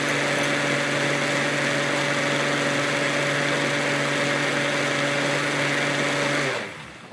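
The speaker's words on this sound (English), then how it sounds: "Now, the longer you blend it in your blender" An electric blender whirs steadily at high speed, blending a chocolate chai spice smoothie, a loud continuous motor whine with a strong tonal hum that holds for several seconds, then spins down abruptly near the end.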